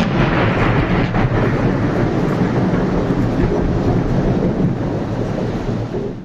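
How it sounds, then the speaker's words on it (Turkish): A loud, continuous rumble of thunder that rolls on steadily without a break and fades slightly at the very end. "Gök gürültülü sağanakla birlikte çakan şimşekler görsel şölen oluşturdu."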